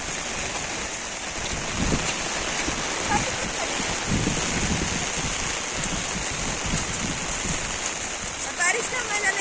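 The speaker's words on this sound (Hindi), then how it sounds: "बारिश, बहुत बारिश है।" Heavy rain falls outdoors in a steady broadband hiss with some gusty swells, while people talk under the downpour.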